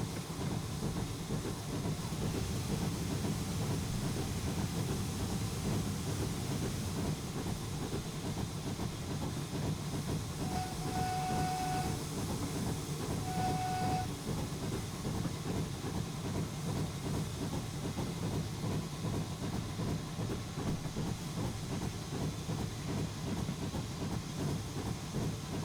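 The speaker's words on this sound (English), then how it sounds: "on a level grade, this engine does make steam very freely" A steam locomotive in a train simulator game runs steadily on a level grade, giving a continuous loud chuff and hiss with rolling wheel rumble and clatter. Two short whistle-like tones sound near the middle.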